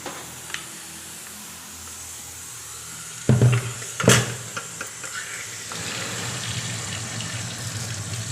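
Running tap water splashes onto a metal pressure cooker to release its pressure, starting with a couple of sharp bursts, then settling into a steady stream.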